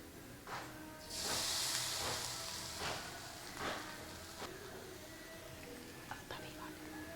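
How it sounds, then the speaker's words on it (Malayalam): Grated coconut roasting in a pan for kootu curry, a steady sizzling hiss rising sharply and then tapering, with a few scraping stirs and a quiet voice underneath. "ഇനി തേങ്ങ വറുത്തിടാം നമുക്ക്."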